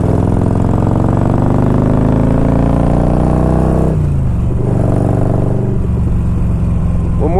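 A 1992 Harley Davidson Electra Glide Sport accelerates on the road, its loud, deep engine rising steadily in pitch through the revs, then dropping at a gear change near the midpoint before climbing again, heard close up and with no talk.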